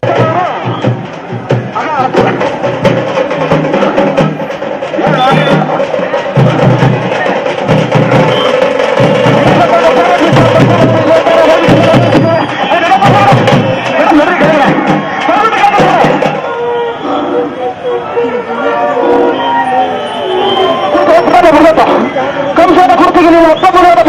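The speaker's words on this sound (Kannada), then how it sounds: "ಜೈಕಾರಗಳು" A political rally crowd in Mandya cheers and chants with steady roaring hubbub, rhythmic collective shouts rising and falling throughout, while someone speaks loudly into amplification over the noise.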